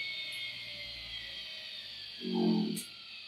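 A DC motor on a lab bench running at about 7714 RPM as its speed is turned down, a steady faint whine holding throughout with a brief low rumble near the end.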